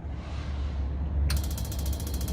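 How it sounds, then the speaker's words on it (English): Automatic ignition fires on the burner of a Strassmayr TS Mini emulsion sprayer: a low rumbling hum is joined midway by a rapid, regular ticking of the igniter sparks that keeps going to the end. "We can hear the ignition going on, and the flame has started."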